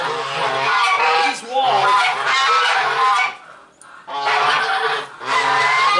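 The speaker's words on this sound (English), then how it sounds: "now geese are here" Geese honk loudly and close by at a rural homestead. Their harsh calls come in long, overlapping bursts separated by short pauses, and someone briefly speaks over them.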